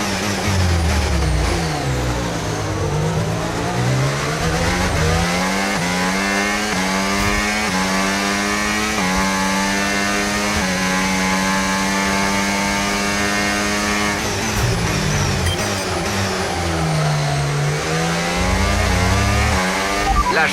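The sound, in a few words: Formula 1 race car accelerating, from F1 video game Braking Point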